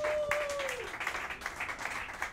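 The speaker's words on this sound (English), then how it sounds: "How about a round of applause for Alicia?" A small audience claps in a Harlem speakeasy jazz club. The applause is brief and fairly faint, with a scattered patter of hands and a short tone near the start.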